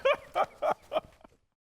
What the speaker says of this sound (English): it's time for Barking Dogs. Marco, can I get a rough? Rough